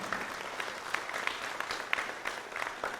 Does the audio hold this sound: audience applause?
yes